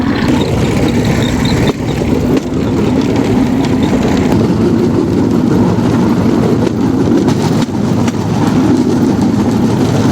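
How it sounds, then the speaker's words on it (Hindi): A Chinese-made motor fitted to a Cambodian bamboo train runs steadily with a loud, close, low engine drone and rattling, continuous throughout with no talk. "ये मोटर जो ये लोग चाइना से लेकर आए यहाँ पे फिट कर देते हैं"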